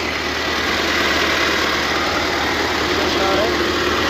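A tractor engine idles steadily and loudly throughout, a continuous rumbling drone with no pauses or revving.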